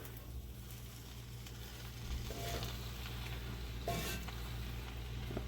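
Fried rice loaded with steak, shrimp and chicken, finished with toasted sesame oil, sizzling steadily in a hot pan as it is tossed and stirred, with a few louder scraping bursts over the constant frying hiss.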